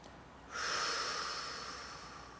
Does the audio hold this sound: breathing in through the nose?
yes